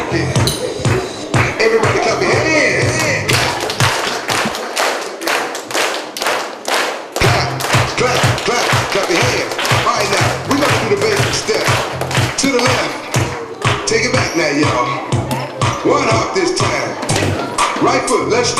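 A crowd at the 2013 Move Mayor Kickoff stomps and claps along to a song, loud steady rhythmic thuds over booming party music, with a brief drop in the beat midway.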